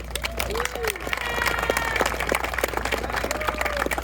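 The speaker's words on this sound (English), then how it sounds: "give yourselves a round of applause for being here" A rally crowd at the March For Life in Utah breaks into sustained applause, dense clapping mixed with cheering voices and whoops, steady and fairly close throughout.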